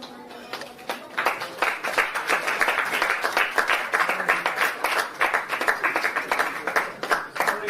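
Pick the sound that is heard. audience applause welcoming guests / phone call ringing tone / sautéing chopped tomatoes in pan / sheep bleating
audience applause welcoming guests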